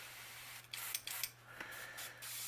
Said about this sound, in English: let me test my airbrush